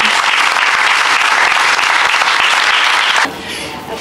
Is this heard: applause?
yes